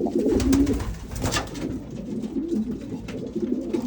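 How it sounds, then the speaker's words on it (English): A long-distance racing pigeon, a red cock, coos in a racing loft, soft repeated throaty murmurs close by with light rustling and general loft noise around them. "Extreme long distance pigeon right here, guys."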